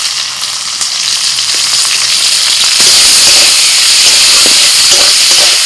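Chopped onion, whole cumin, bay leaf and dried chilli sizzle loudly in hot oil, a close, continuous crackling hiss with occasional stirring scrapes and no talk.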